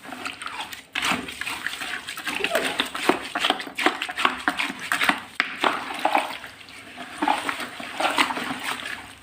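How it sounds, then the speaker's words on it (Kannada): Grapes being stirred by hand into about 1.5 litres of water in a bowl for homemade grape wine, giving a steady run of wet sloshing and squelching splashes that stays close and fairly loud throughout. "ಇದನ್ನು ಇವಾಗ ಮಿಕ್ಸ್ ಮಾಡ್ಕೊಳ್ಬೇಕು ಚೆನ್ನಾಗಿ."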